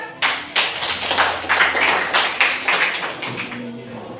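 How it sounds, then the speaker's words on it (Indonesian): Applause from a small group at a school poetry recital performance exam: a few seconds of moderate, close clapping that starts suddenly and thins toward the end, with a voice faintly beneath. "Tepuk tangan."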